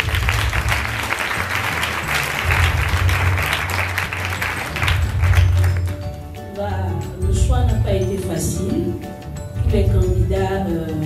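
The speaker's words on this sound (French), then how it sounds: "Je pense que vous pouvez les applaudir très fort." An audience at the Afri-Mode fashion contest applauds the twelve candidates with loud, dense clapping for about six seconds, then the clapping fades as a music jingle comes in, with bursts of applause returning under it.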